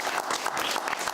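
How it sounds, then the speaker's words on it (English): A dense burst of applause from a crowd, steady and fairly loud throughout, with many hands clapping at once. "give him a round of applause"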